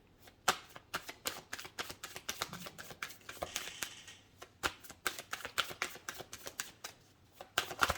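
Tarot cards are handled and dealt onto a surface in a quiet room, with a run of close, crisp snaps, flicks and shuffling taps in an uneven rhythm and no talking.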